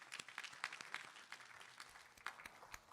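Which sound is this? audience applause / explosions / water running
audience applause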